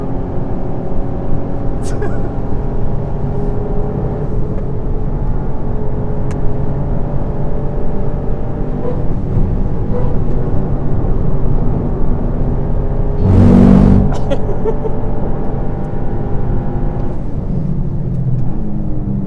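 Sports cars fitted with Milltek exhausts chase a Porsche GT3 RS on European roads, their engines a steady droning hum under close conversation, with one brief louder surge partway through.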